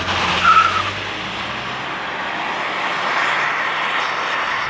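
A 2024 Ford Ranger 4x2, rear-wheel drive, accelerates at full throttle downhill outside Salt Lake City, giving a steady broad roar of engine and road noise that holds loud and constant throughout.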